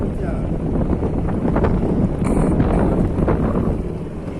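Wind buffets the microphone steadily while a local fishermen's boat moves over the sea off a sandy beach, with a continuous low rumble of engine and water throughout and no clear talk.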